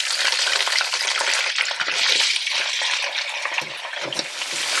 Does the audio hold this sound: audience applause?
no